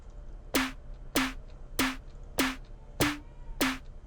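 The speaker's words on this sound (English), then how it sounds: "Synth hi-hat." Synthesized hi-hat from an Omnisphere sound library, six bright evenly spaced hits, each with a short tonal tail, played alone at moderate loudness.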